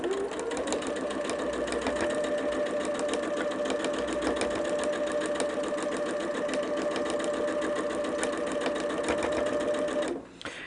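A sewing machine stitching a quilt seam runs continuously with a fast, even mechanical whir and rapid needle chatter, close and steady, stopping abruptly near the end.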